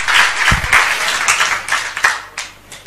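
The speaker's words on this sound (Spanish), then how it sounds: "Un aplauso, claro, para los que se han salvado." Audience applause at a live Spanish-language talk on homeopathy, with a steady wash of clapping from a sizable crowd running throughout, several sharper individual claps standing out near the front.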